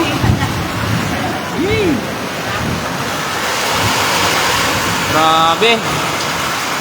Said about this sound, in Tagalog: Lakas ang ulan dito sa Taytay, sa Muson.